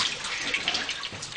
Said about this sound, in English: Dump the water into my bucket,